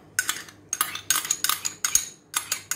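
A utensil scrapes and clinks against a bowl while chocolate, yogurt and condensed milk are stirred into cake batter, in quick close bursts of strokes with short pauses between them.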